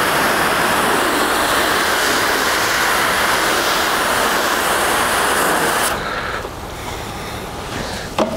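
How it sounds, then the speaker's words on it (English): Car wheels being rinsed after washing: a strong, continuous hiss of spraying water, loud and close, that suddenly drops to a softer spray near the end. "So let's rinse this now that we've washed it."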